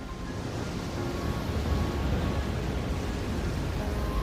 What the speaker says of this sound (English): As you leave Poda Island, waves begin to rise.